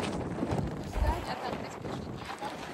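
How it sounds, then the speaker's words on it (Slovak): Strong wind at Battery Spencer by the Golden Gate Bridge, buffeting the microphone with a continuous, rough roar and low thumping gusts, loud and unbroken throughout. "Extrémne tu fúka"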